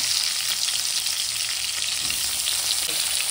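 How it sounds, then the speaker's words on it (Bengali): Potato, pumpkin and eggplant pieces frying in a pan, a steady close sizzle and crackle with faint stirring, no voices. "এখানে আলু, কুমড়ো, বেগুন যা ছিল ঘরে সেইগুলো দিয়ে এই সবজিগুলো এখানে দিয়ে দেওয়া হলো"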